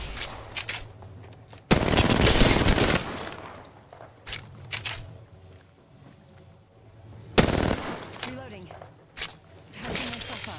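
Rapid bursts from an R99 submachine gun in Apex Legends, with several short and long volleys of fast automatic fire, near and loud, separated by quieter stretches of movement and game sounds.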